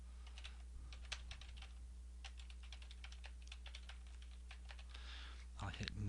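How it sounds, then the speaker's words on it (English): Close, rapid keystrokes on a computer keyboard as a blog web address is typed, irregular clicks and taps running steadily for several seconds with a low hum underneath. "I'll type in my blog URL."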